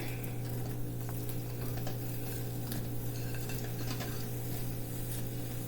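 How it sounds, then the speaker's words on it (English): Onions and peppers cook in a pan for Italian sausage sandwiches, giving a steady low sizzle and simmer with occasional clinks of a utensil stirring against the cookware, continuous and close, with no talking. "so I'm going to put the onions in here. And then all the peppers in there."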